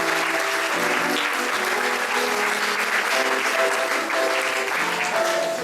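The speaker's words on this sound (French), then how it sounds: "On peut les applaudir très fort." Audience at an improv cabaret show applauding loudly, a dense continuous clapping that holds steady for several seconds with a few scattered cheers.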